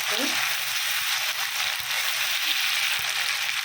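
Chickpeas with ginger-garlic paste and spices fry in a pan for a chola buna recipe, giving a steady, close sizzle with a few soft stirring knocks throughout and no voice.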